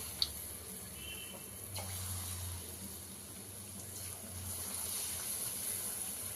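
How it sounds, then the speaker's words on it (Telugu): Mysore bonda frying in hot oil, giving a steady soft bubbling hiss that stays fairly quiet and even throughout. "ఆయిల్ వేడైపోయింది ఇప్పుడు మనము మైసూర్ బోండా వేసుకుందాం"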